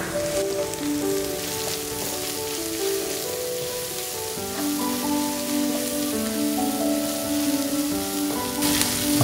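Onions and carrots sautéing in a pan for aloo bhaji give a steady, close sizzle throughout, with sustained background music tones layered over the frying.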